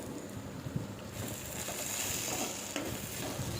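Okra and peanut fry, dusted with chilli powder, is stirred in a pan: a steady close sizzle with soft scraping strokes throughout, and no talking.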